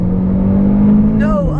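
A Renault Clio R.S. hatchback accelerating hard from inside the cabin, with a steady engine drone that climbs sharply in pitch toward the end, loud and close, over a brief voice.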